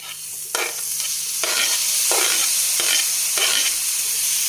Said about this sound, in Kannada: ಶುಂಠಿ ಬೆಳ್ಳುಳ್ಳಿ ಆದ ತಕ್ಷಣ ಈಗ ತಕ್ಷಣ ನಾನು ಟೊಮೊಟೊ ಹಾಕ್ಕೋತೀನಿ